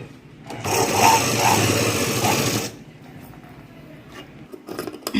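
An electric sewing machine stitches a blouse in one fast, continuous run of about two seconds, then falls quiet, leaving soft rustling and handling of the fabric close by.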